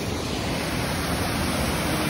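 Water pouring down from the Adare dam, a steady, dense roar of falling water that stays constant and close throughout, with no voices over it.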